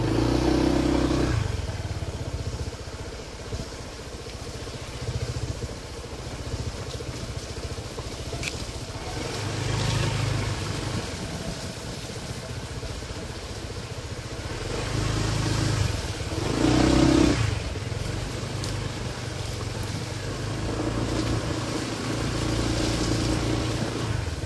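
A motorcycle rides along a narrow inner path in a rural Philippine area, its mid-pitched engine running steadily for the whole stretch with a few surges in revs and some clattering over rough ground.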